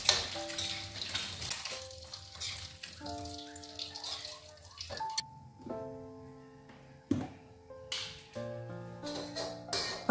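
Quail eggs fry in hot oil, a steady crackling sizzle with stirring and clatter, close and moderately loud, mixed with background music tones.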